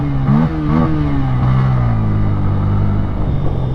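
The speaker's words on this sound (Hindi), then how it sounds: "और इस गाड़ी की आवाज़ बहुत अच्छी है।" A 2024 Bajaj N160 motorcycle engine hums and revs steadily while being ridden, a loud, close and continuous drone with slight pitch shifts as the throttle changes.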